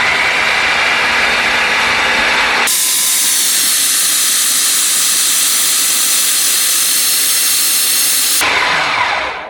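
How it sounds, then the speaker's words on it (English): A blender purees a lentil meat loaf mixture in a loud, steady motor roar up close. The whirring jumps to a harsher, higher pitch partway through, then drops back near the end. No voices. "Now we are going to make sure that it's blended up very well."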